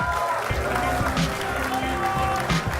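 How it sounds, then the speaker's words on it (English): Applause and crowd noise fill a live Clash Royale tournament hall in Helsinki as the first finalist is honored. Steady clapping runs throughout with a dense, busy background. "Ladies and gentlemen, a round of applause for Steroidy69."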